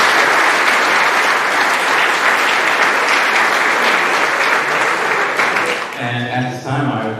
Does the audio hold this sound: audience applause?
yes